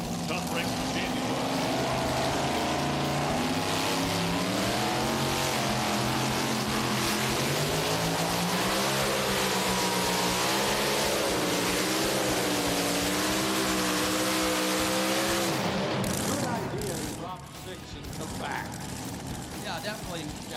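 A mini rod pulling vehicle's Hemi engine roars loud and close at a Tomah, Wisconsin NTPA pull, its pitch climbing and wavering under sustained throttle for about fifteen seconds before dropping away abruptly.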